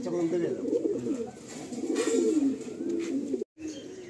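Pigeons cooing in a loft in Kolkata, repeated low throaty coos from several birds close by, overlapping in soft rolling phrases with a brief drop-out near the end.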